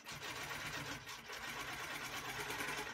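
A longarm quilting machine stitches through embroidered linen with matching thread, a steady close mechanical whirr with rapid needle chatter running evenly throughout.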